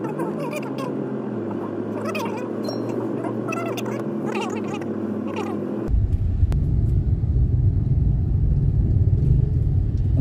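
Car passing along a village road in the Dukun area of Gresik, a low engine rumble that swells sharply midway and stays close and loud, with faint voices earlier.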